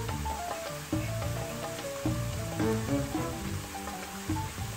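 Onion and chicken frying together in a pan for a pepper gratin, a steady close sizzle and crackle running throughout, with no talk.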